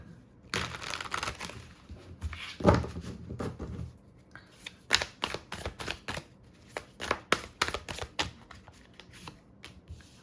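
Tarot cards are shuffled by hand during a reading, a close run of crisp riffling and slapping bursts, denser at first and then in quick separate flicks.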